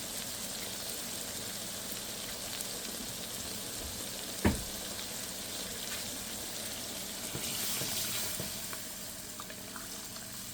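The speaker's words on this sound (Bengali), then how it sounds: "এখন একটু ঝোলের পানি দিয়ে দেবো" Water poured into a pan of sautéed potato and eggplant curry for a sour fish gravy, giving a steady hiss and sizzle throughout with one sharp clunk midway; no talking.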